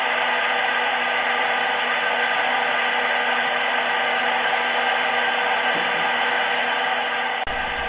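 A handheld hair dryer running with its heat on, giving a steady, loud, continuous whir and rushing airflow with a constant motor hum that stops abruptly near the end.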